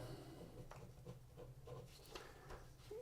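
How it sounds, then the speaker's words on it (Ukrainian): A pen scratches out calculations by hand in faint, close strokes, with short scribbles spread irregularly across a quiet background. "Пишемо так, щоб було видно."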